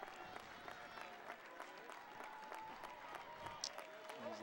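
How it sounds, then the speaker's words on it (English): Football fans in the stands at a high school section semifinal applaud with a steady spread of clapping, moderately distant, with faint voices mixed in. "the fans applaud the hometown crowd"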